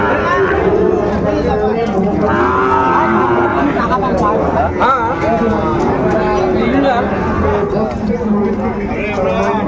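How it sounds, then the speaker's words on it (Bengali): Sahiwal bull calves lowing at a busy livestock market in Dinajpur, with loud repeated moos close by under constant crowd chatter and talk throughout. "দেখছেন গরুটি"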